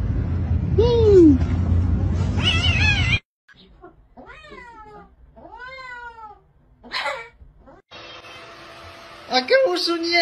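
A cat meows repeatedly, a string of rising and falling tonal cries, some close and loud, others softer, across several separate recordings.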